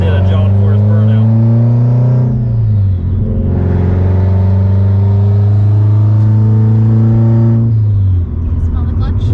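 A 9-second Subaru STI drives along, its engine a loud, close drone that climbs through the revs, dips as it shifts, climbs again and eases off near the end, with no voices over it.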